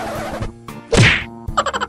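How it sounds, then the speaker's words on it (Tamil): A few sharp wooden cracks and a heavy thwack ring out close by as a chair breaks apart under a seated woman, followed by a quick rattle of smaller knocks as it gives way. "சேர் என்ன பாட் பாட்டா நொறுங்கிருச்சு"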